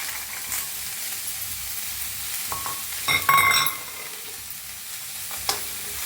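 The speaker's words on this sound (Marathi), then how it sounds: "हलवून भाजून घेऊया पत्ता गोबीला वटाने बी भाजून घेऊया" Cabbage and peas being stirred and dry-roasted in a pan, with a soft steady sizzle under scraping spatula strokes and a brief louder clatter partway through.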